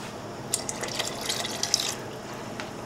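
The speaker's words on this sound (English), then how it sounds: "I'm going to add 2 more cups right now." Water pours into a soup pot of black-eyed peas and vegetables, a short close splashing and trickling stream with faint droplet sounds.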